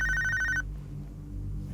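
A telephone bell rings in a quick repeated trill for about half a second, then stops, leaving a low background hum.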